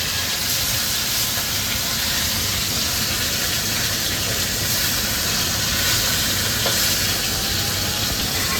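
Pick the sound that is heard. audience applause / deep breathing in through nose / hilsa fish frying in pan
hilsa fish frying in pan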